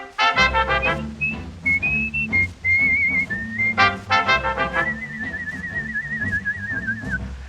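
Whistling a melody on a jazz band record with trumpet and clarinet, the clear high whistle gliding over loud brass and rhythm accompaniment, ending in a long sustained whistled note.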